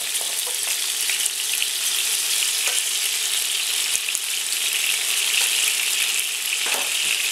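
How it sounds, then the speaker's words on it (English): Beef patted dry sizzles and fries steadily in a pan for Greek stifado, a dense continuous crackle with occasional scraping stirs, close and fairly loud, with no talking. "Now I've patted the meat dry so we don't get a lot of splattering."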